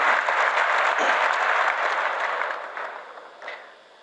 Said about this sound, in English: I think that deserves a bigger clap, guys.